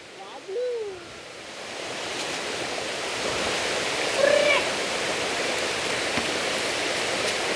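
Rushing water at Darimalli waterfall forms a steady broadband roar that fills the whole stretch, with a brief voice-like sound near the start and a short faint tone partway through.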